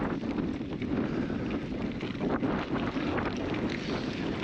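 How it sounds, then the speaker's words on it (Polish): Strong wind buffets the microphone in a steady, loud rumbling roar while bikepacking through a Cairngorms valley, continuous for the whole stretch with no voices. "Ten wiatr jest mocny."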